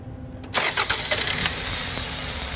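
A car engine undergoing a spark plug misfire test cranks briefly, catches with a loud start, then settles into a steady, close idle with no talking.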